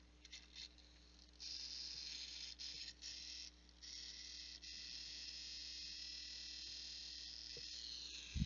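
Intel NUC computer fan with a failing bearing, a faint continuous high whir with an intermittent chattering, grinding rattle that cuts in and out, alone and close.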